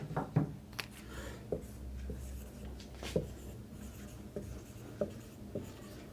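Pen on paper during a computer hardware lesson, soft scratching strokes with a handful of sharper taps spread across several seconds, close but quiet, with no one speaking.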